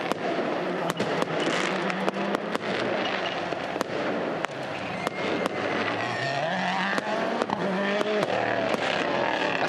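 Fireworks and flares crackling and popping at the WRC Rallye Monte-Carlo 2024 stage 2, with sharp bursts over a steady roar and rumble as rally cars climb a hill at night.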